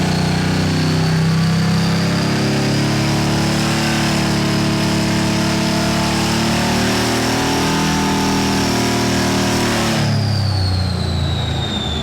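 A supercharged LSX engine in a C10 roars on a dyno at part throttle, a loud steady drone with a high supercharger whine held for about ten seconds before the revs drop away near the end.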